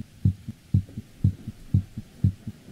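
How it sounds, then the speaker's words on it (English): A thudding heartbeat from the horror video game The Classroom Horror, each beat a close, heavy double thump repeating at a steady, fairly quick pace with nothing else over it. "Where's my heartbeat going quicker?"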